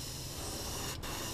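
An air compressor fills its tank with a steady, even hiss and low rumble that holds at a constant level throughout, with no voices.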